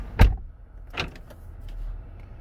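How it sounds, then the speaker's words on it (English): A car's door locks unlock with a sharp mechanical thunk close by, followed about a second later by a second, softer actuator clack, then a low hum. "my door unlocks."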